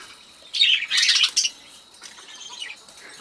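Pet budgies, or parakeets, kept in cages chirp and squawk in short bright bursts at close range, with a busy flurry of calls followed by quieter scattered tweets.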